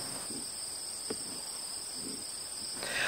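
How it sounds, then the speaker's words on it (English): Late-summer crickets trill continuously in a meadow in a high, steady drone, with a few faint rustles and soft thumps underneath. "the late summer crickets going in the meadows were music to my ears"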